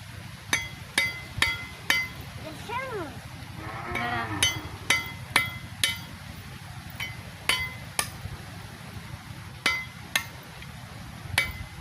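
Fresh-picked coconuts from home trees are chopped open with sharp, irregular whacks of a blade, each a crisp close strike, while goats or sheep bleat in the background.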